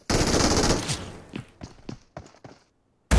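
Sniper rifle fire in a shooter video game: a loud burst of gunfire up front, followed by several sharp separate shots, a short pause, then another blast at the very end.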